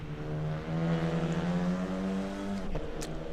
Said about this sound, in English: I'm going to shut up and you're just going to get engine sounds.